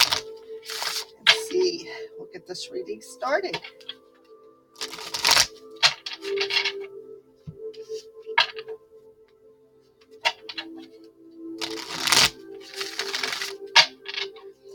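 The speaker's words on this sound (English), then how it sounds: "we'll get the rest of these cards shuffled up pretty quick here" Tarot cards being shuffled by hand during a reading, a series of quick riffling, rustling bursts that come and go over a low steady hum while a person talks.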